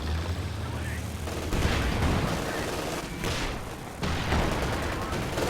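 Gunfire and shells strike and bounce off a Churchill tank in Company of Heroes 2, a dense stretch of cracks, booms and impacts that rises and falls over several seconds with no clear gaps.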